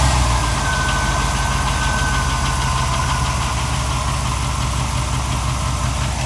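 The engine of a Suburban 2500, fresh from an oil change, runs at a loud, steady cold idle. The low rumble is close and continuous, with a faint ticking mixed into it.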